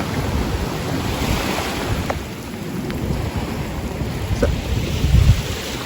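Ocean surf breaking on a beach at Alaminos, Pangasinan: a steady broadband wash of waves with wind buffeting the microphone, a slightly louder surge near the end, and no talking.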